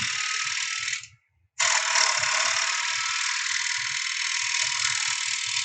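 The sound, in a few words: woodturning bowl gouge making pull cuts on a platter rim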